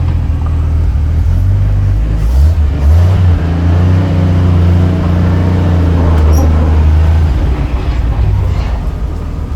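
A Dodge Power Wagon truck with a swapped engine rumbling loudly up close, a deep low drone rising and falling as the throttle is worked, continuous with no talk.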